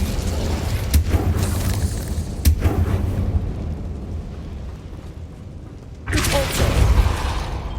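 Incendio fire spell cast in the Hogwarts Legacy video game, a loud rumbling whoosh of flame with several sharp impact bursts and a final surge near the end.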